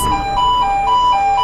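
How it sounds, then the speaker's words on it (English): An oil rig fire alarm, loud and close, alternates rapidly between two high tones in a steady warbling pattern. "the fire alarm on your rig sounds like this."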